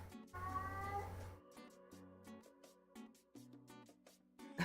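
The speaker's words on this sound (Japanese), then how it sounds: "猫が鳴いた。" A cat meows several times at close range, a series of short, clear cries with brief pauses between them, heard faintly and alone without talk.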